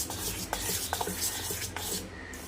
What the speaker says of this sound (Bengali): দু চামচ তিন চামচ ভালো করে ময়দাটা দুধ আর কলার মধ্যে মাখাবো